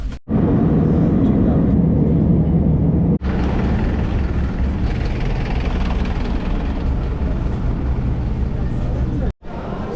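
Steady, loud airplane cabin drone on a flight, a continuous low engine roar filling the space, with two brief dropouts where the sound cuts off abruptly.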